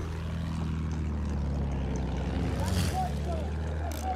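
Aircraft engine in Battlefield 1, a steady droning hum with propeller-like low tones running throughout, loud and continuous beneath battlefield game ambience.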